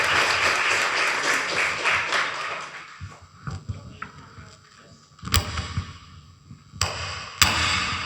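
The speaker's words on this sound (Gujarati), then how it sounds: "એમનો જોરદાર તાળીઓથી સ્વાગત કરશું" A gathering claps to welcome a visiting saint from Valsad at a religious discourse. Dense applause fills the first three seconds, then fades to scattered claps, bumps and a few sharp knocks.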